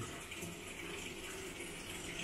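Water pours steadily into an ordinary, inexpensive home washing machine as it fills, a continuous hissing gush at moderate level with no voices.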